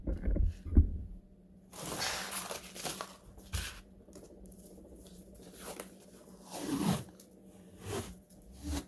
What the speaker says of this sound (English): So we'll put our final application tape on it.